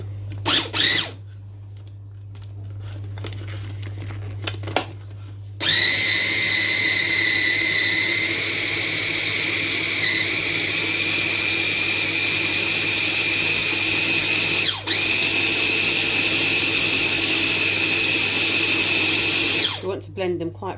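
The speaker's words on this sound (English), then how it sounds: "We want to blend them quite fine because we don't want them to penetrate the flour" An electric grinder whirs loudly and continuously for about fifteen seconds, blending a filling for Moroccan sweet rghaif that includes butter. Quieter handling sounds come before it, and the motor cuts out briefly once near the end.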